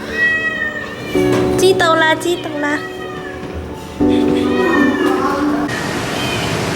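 Two frightened pet cats meow and yowl repeatedly and loudly, just back home after being relocated to Malaysia, while someone talks over them throughout.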